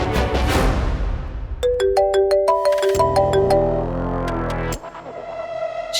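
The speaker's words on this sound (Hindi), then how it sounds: "एक बार लाली जी को फोन तो करो" A phone ringtone plays during a TV drama scene: a melodic electronic tune of bright repeating tones over a low rumble, with a short jingle that restarts near the end, loud and alone without talk.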